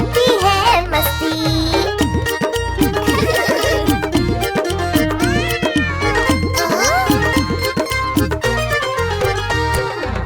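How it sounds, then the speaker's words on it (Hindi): A cartoon cat's repeated meows ride over a bouncy, rhythmic children's Hindi rhyme backing track, the meows sung or voiced melodically and tightly woven into the steady beat throughout. "म्याऊ म्याऊ म्याऊ म्याऊ करती है बिल्ली।"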